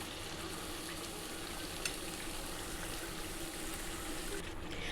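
Vegetable masala for chicken curry sautéing in oil that has separated, a steady unbroken sizzle heard close up and quietly, with a faint clink partway through.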